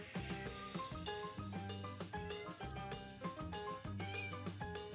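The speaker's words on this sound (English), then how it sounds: "You could just sit and meow at the camera all day." A pet cat meows repeatedly indoors, a series of close, loud, tonal cries with rising and falling pitch, one after another with short gaps and no talk.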